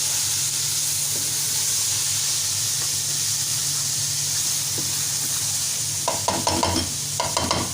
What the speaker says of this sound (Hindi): तब इसके अंदर हम हरी मिर्च ऐड करेंगे और इसको करेंगे अच्छी तरह मिक्स